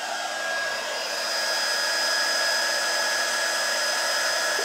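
Close, loud, constant whine of a hair dryer blowing over alcohol ink on a handmade Valentine's card, an unbroken airy roar with a steady high tone throughout.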